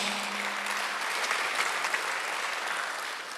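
Steady applause from a church congregation during a Sunday sermon, sustained and even for a few seconds with no voices rising above it.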